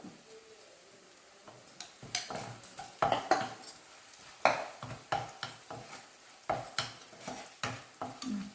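Spoon stirring turmeric powder into frying masala in a pan while making fish molee, with a quiet sizzle under repeated scraping and clinking strokes against the pan.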